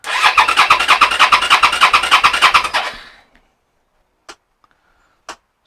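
A Suzuki SV650 motorcycle fitted with a new CDI runs loud and close for about three seconds with a fast, pulsing beat, then cuts off. A few sharp clicks follow in near silence.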